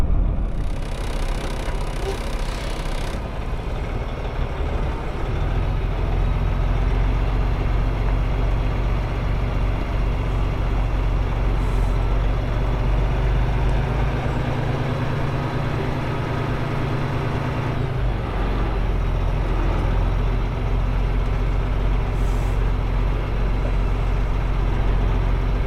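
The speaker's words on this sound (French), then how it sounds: "je vais faire une petite marche arrière là d'abord" A heavy truck in a truck driving game rumbles steadily as it backs up slowly, its deep engine drone continuous and close, with a shift in engine tone partway through.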